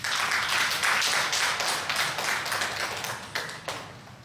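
Clapping from a church congregation during a Sunday morning service, a loud dense burst of many hands that thins out toward the end with a few scattered claps.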